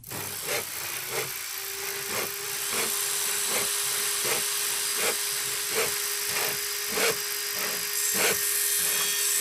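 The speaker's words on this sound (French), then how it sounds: "On a une scie circulaire, mais c'est scie anglais électrique quoi." Electric circular saw cutting through wood, with a steady motor whine underneath a regular series of sharp, rasping cutting bursts about twice a second. Loud and close, with no voices.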